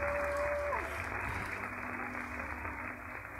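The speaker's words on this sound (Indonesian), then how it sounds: "Kasih tepuk tangan." A church congregation breaks into steady, dense applause that fills the hall, sustained and moderately loud, with a brief tonal sound near the start.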